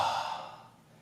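A single long exhale during a yoga forward fold, soft and breathy, fading steadily over about a second with no talking.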